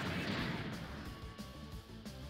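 Special Beam Cannon attack in the Dragon Ball Raging Blast video game, a booming, artillery-like blast that rolls on as crackling impacts and a low rumble, loud and sustained.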